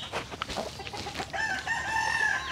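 Heritage chickens at a Cebu poultry farm give rapid overlapping clucks before a rooster crows in a long, strong, sustained call that carries through the second half amid continuing flock chatter.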